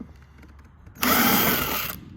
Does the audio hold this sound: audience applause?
no